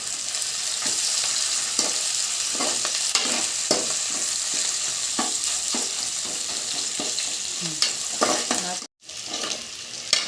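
Ginger garlic paste frying in a pan for chicken fry, a continuous close sizzle broken by repeated scraping and stirring strokes, with a short silent gap near the end; no talking.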